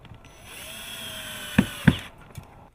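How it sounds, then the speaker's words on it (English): A power drill with a Phillips bit drives screws through metal hinges into shutters made of Permex material, whirring steadily at moderate volume, then giving two sharp knocks close together as each screw seats, followed by a lighter tap. "Next, using a Phillips bit, fasten the hinges to the shutters."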